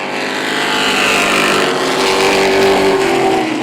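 Stock cars racing on a short-track speedway, a Chevrolet Monte Carlo among them, their engines roaring loud and continuous as the pack passes close by, with pitch rising and falling through the run.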